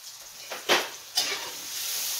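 Onions caramelizing in a pan for sweet potato hash, with sweet potatoes and broccoli stems added, give two short, bright sizzling bursts that settle into a steady, soft frying hiss.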